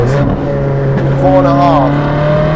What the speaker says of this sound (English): let's quickly just get a little listen to this Novitec exhaust.